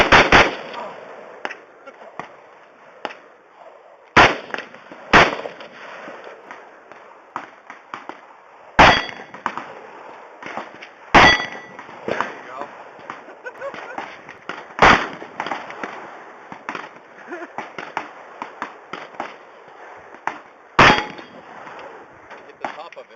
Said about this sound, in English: Rapid fire it.